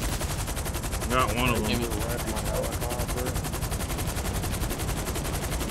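Rapid automatic gunfire in the video game GTA 5 Online, a dense continuous rattle of shots throughout, with a voice talking briefly over it.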